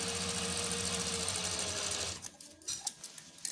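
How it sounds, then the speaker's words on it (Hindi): Sewing machine running a reverse double seam on garment fabric, a steady close rapid stitching whir for about two seconds, then stopping into light handling clicks and rustles. "इसके बाद आपने इसको रिवर्स डबल सिलाई लगानी है इसके ऊपर पलटा के,"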